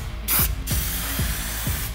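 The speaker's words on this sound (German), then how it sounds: "Und wenn es trocken ist, kann man auch ruhig noch eine zweite Schicht drauf sprühen." Rust converter is sprayed from a can onto bare car body metal on a VW Corrado G60 in two short, bright hissing bursts, with rhythmic mechanical clicking running underneath.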